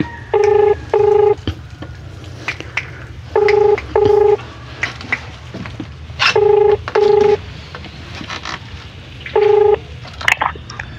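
Telephone tones come through a handset, loud and clear: short paired beeps that repeat in a steady pattern about every three seconds over a low background hum.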